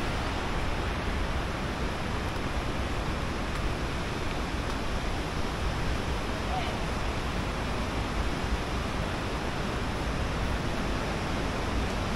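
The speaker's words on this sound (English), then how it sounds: "I suppose they would be called rapids." River rapids at Killin rushing continuously, a dense, loud roar of turbulent water filling the whole stretch without pause, close by, with no clear voices over it.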